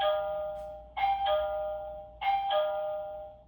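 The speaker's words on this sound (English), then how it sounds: "this lock has a doorbell button. And it's pretty loud" A Lockin Veno smart lock's doorbell chime ringing loudly indoors in an apartment: two bright two-note ding-dong tones, each ringing out and decaying before the next starts, with no talking.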